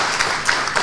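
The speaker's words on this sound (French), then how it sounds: "e je veux nommer le ministre Salimane Karim, que je vous prie d'applaudir." Brief burst of dense audience clapping at a pan-African conference, heard as a continuous wash of applause with a few louder individual claps.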